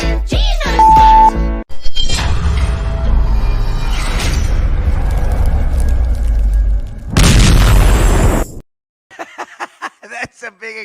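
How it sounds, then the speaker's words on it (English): A big explosion sound effect: a loud, sustained rumbling roar that swells partway through, then cuts off abruptly, followed by a few brief voice-like fragments. "That's a big explosion."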